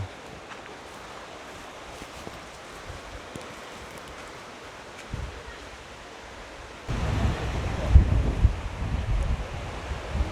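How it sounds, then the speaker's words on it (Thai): Wind blowing at Wat Tham Khao Tao, a hilltop temple by the sea in Hua Hin, Thailand: a soft rushing breeze that rises into louder buffeting gusts partway through, heard on its own. "บรรยากาศดีมากๆเลยลมพัดตลอดเลยวัดนี้"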